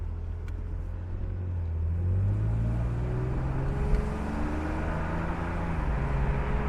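A 1998 BMW E36 M3 engine drones steadily from inside the car while driving, its pitch rising and falling as gears are shifted.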